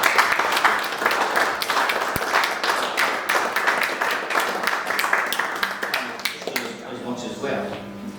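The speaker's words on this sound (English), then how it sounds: "people in the room as well need a round of applause" Applause from an audience at a walking football Q&A event, a dense, steady patter of many hands clapping that carries on for several seconds before thinning out toward the end.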